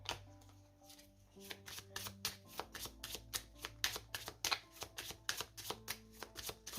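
Tarot cards are shuffled up close in quick, crisp riffling bursts with soft slaps between them, a steady rhythmic run of papery flicks and taps, quiet and with no talking.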